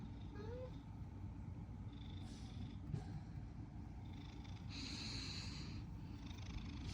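A pet house cat purring softly and steadily at close range, a faint continuous low rumble with a brief chirpy sound near the start and light background noise.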